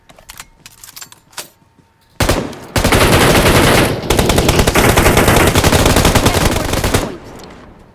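Gunfire in a video game: a few scattered quiet shots, then a loud, sustained burst of rapid automatic fire lasting several seconds before cutting off abruptly.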